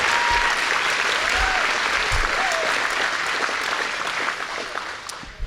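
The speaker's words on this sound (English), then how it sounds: "I just really want to give you a round of applause" A community event audience gives sustained applause, a dense, loud, even roar of many hands clapping with a few faint whoops, slowly thinning toward the end.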